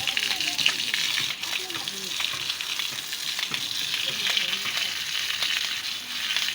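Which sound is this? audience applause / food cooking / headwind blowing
food cooking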